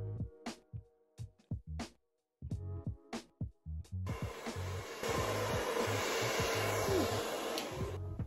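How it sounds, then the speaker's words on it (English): A hair dryer on low heat blows on a wig, close by. Choppy bursts as it is switched or moved settle into a continuous airy whoosh. "So I'm gonna blow dry this on like a low hot setting until I feel like it's good enough"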